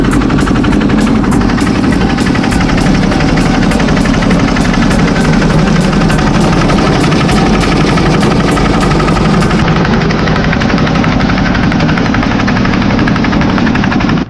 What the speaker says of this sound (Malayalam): ഐസ് പൊടിക്കുന്ന രീതിയാണ് കാണുന്നത്